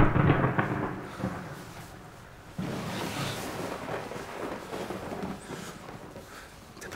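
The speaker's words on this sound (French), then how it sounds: "T'as peur de l'orage aussi?" Thunder from a thunderstorm rolls as a loud, low rumble, with a heavy burst at the start and a second surge midway that fades slowly.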